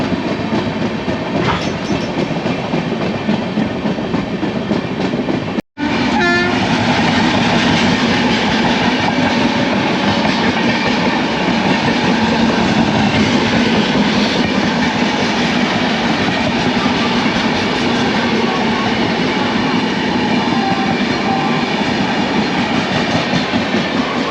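The 22701 UDAY Express double-decker train rolls along the rails from Visakhapatnam toward Vijayawada, heard from inside as a loud, unbroken roar with rhythmic wheel clatter, interrupted only by a split-second dropout early on.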